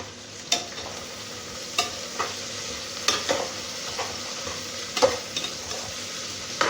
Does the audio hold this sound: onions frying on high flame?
yes